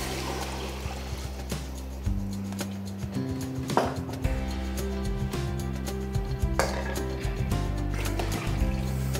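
Wild boar marinade juice poured into a cooking pot, a continuous liquid trickle and splash with a few clinks and knocks over about nine seconds, heard up close.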